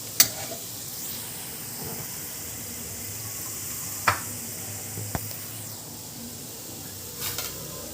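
Brinjal cooks in a pan with a faint steady sizzle, broken by a few sharp clinks and taps of utensils, close and fairly quiet with no talking.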